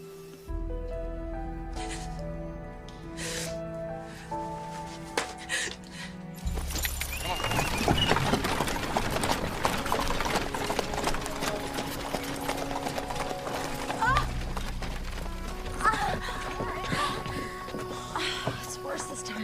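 A horse's hooves clip-clop in a steady rhythm beside music, the horse being ridden off into the countryside as dusk approaches, with voices talking over parts of it.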